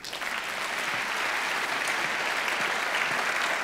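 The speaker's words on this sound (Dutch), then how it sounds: "Een applaus voor Margriet de Schutter." Sustained applause from an audience, a dense even clatter of many hands clapping that swells quickly and holds steady throughout.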